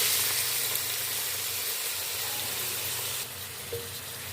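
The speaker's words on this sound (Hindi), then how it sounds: "अब इसमें हम चिकन का कीमा डालेंगे।" Minced chicken keema frying in a pan with green chilies makes a continuous close sizzle and hiss that eases slightly near the end, with no voices.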